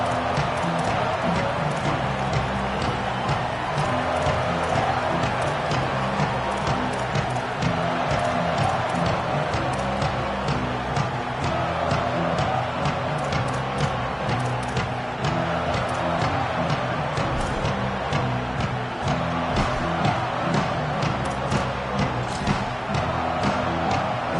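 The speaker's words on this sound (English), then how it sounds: "This crowd ready to make its presence known" A football stadium crowd in a college football video game holds a constant dense roar for the whole stretch, steady and full, with faint rhythmic thumping underneath.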